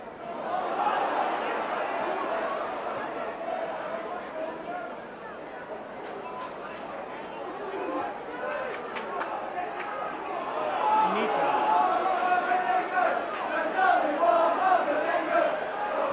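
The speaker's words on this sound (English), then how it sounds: "the crowd singing there's only one Mal Meninga" Rugby league crowd at St Helens against the touring New Zealand side in 1989, singing a chant together in a large stadium, a broad sustained roar of many voices that swells louder toward the end.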